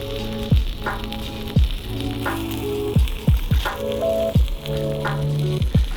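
Bratwursts sizzling in a pan on a gas stove out on the ice while ice fishing, a steady frying crackle with a loud, close sizzle that is broken by repeated bursts of scraping and clattering as the sausages are turned.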